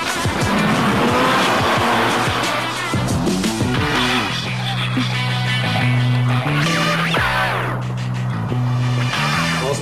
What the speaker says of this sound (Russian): Заводи машину, это у тебя лучше получается.